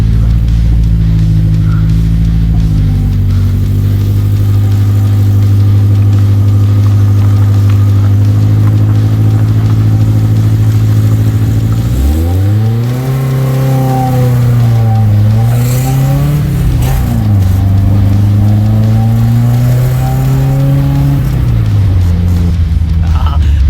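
A loud 1200 wagon car engine idles with a deep exhaust rumble, then revs up and down repeatedly, the pitch rising and falling close by.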